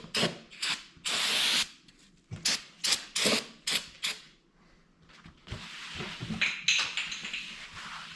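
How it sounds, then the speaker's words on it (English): A valve cover from a Mitsubishi Mirage gets brake cleaner sprayed and rubbed on it: a long hissing spray burst, then a run of brisk, regular wiping strokes, followed by a further stretch of spraying and scrubbing, close up with no talking. "I'm gonna clean it off with brake clean because that's a nice way I like to prep things"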